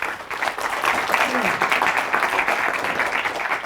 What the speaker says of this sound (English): Don't clap just yet.